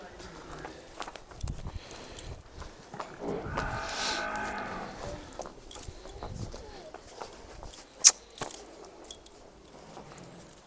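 A Nili buffalo on a farm lets out a single drawn-out, fairly close moo midway, amid soft footsteps, occasional knocks and quiet voices in the background.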